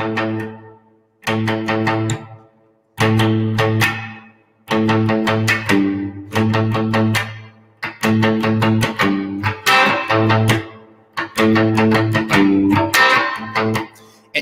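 An electric guitar strung with flatwound strings and run through spring reverb plays short chordal phrases in separate bursts, each ringing out with a washy tail before a brief pause, alone without talk.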